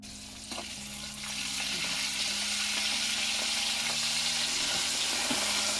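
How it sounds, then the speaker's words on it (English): Chicken wings frying in hot oil: a steady, close hiss and crackle of bubbling fat that swells after the first second and holds constant, with faint clicks and a low electrical hum beneath. "we're gonna let them fry from like 8 to 10 minutes until they're golden brown"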